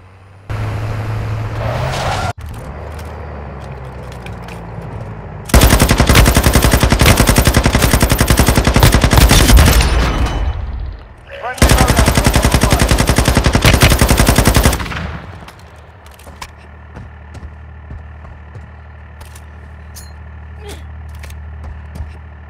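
Loud, sustained automatic gunfire bursts from Warzone Mobile trios battle-royale gameplay, two long rapid-fire volleys separated by a short pause, with quieter game ambience before and after.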